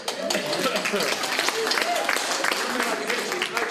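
Audience at a stand-up comedy show clapping steadily, a dense continuous wash of many hands with crowd voices mixed in.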